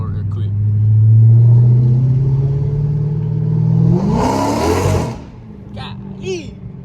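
A 500 hp Dodge Scat Pack in track mode revs and accelerates hard, its loud close engine note climbing and then dropping, with a short burst of tire noise before it eases off.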